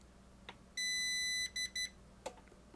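A CyberPower CP1500PFCLCD UPS gives beeps as it is switched off: one long steady tone followed by two short beeps, clear and alone in a quiet room.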